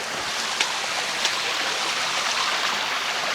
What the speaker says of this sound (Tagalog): Ito yung isang falls na nakatago